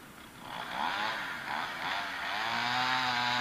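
A chainsaw cutting into a tree in Whitefish, Montana, a close, whining engine that rises and falls in pitch as it bites through the wood, running loud and steady before revving higher toward the end.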